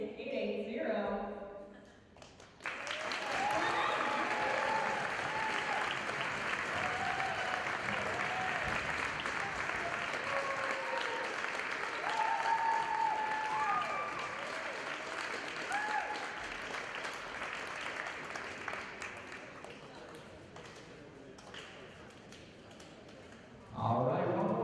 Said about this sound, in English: one more round of applause for our Control Award winner